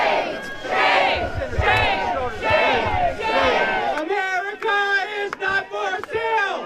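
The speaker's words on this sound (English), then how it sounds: "they were met by a crowd of protesters" A crowd of protesters outside a dinner venue for Donald Trump's guests shouts and chants together, loud and close, in rhythmic bursts for the first few seconds before thinning into scattered individual yells over steady street noise.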